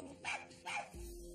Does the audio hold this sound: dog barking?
yes